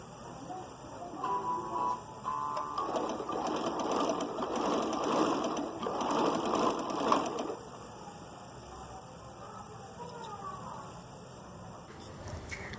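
A sewing machine runs in quick bursts as it stitches shirt fabric with black thread, a rapid mechanical whirr that starts and stops, then fades to quiet handling near the end.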